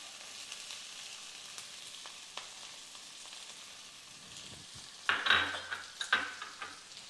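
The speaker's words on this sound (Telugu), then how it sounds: "ఈ ఉల్లిపాయలు కూడా గోల్డెన్ బ్రౌన్ వచ్చే వరకు వేయించుకోవాలి" Onions fry in a pan toward golden brown, a soft steady sizzle broken by a few louder spatula scrapes and clanks near the end, with no voices.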